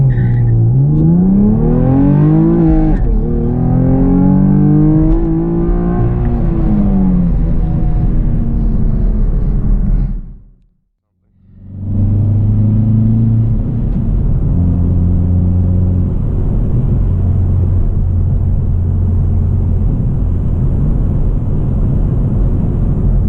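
A manual 2019 Hyundai Veloster N or 2020 Camaro 1LE V6 launches hard, its engine note climbing through the revs in a loud close rumble. A brief silent gap follows, then the engine drones steadily under load.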